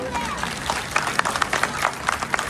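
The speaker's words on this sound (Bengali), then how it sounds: "হাততালি এত আসতে কেন?" Audience at a Bengali stage performance applauding, a dense patter of many hands clapping steadily at moderate loudness.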